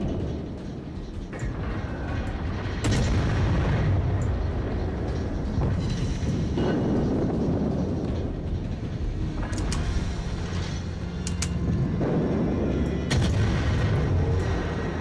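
Warship guns fire in World of Warships, loud booming salvos rolling over a constant low engine rumble. Sharp blasts recur through the stretch, with no voices over them.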